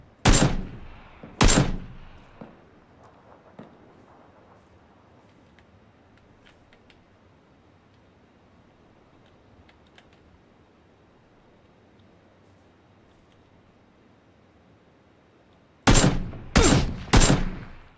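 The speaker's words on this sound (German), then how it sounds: "Ah, hat der gut geschossen." Gunfire in PUBG (PlayerUnknown's Battlegrounds): two sharp, loud shots open the stretch, a long quiet gap follows, then a quick burst of three or four close shots near the end.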